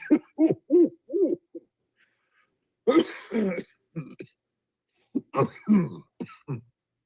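A person coughs repeatedly in several rough bursts and clears their throat, close by, with brief quiet gaps between the fits.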